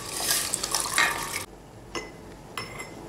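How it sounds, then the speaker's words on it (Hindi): Boiling water in a pot for soya veg biryani, with rice tipped in: a loud rushing splash and bubbling for over a second, then quieter water sounds and two brief clinks or drips. "अब पानी खौलना शुरू हो गया है, अब इसमें हम चावल मिला देंगे।"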